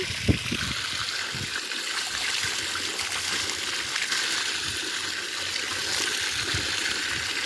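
Spring water pours steadily from several spots into a channel beside a rice field, a continuous close trickling and splashing with no speech over it.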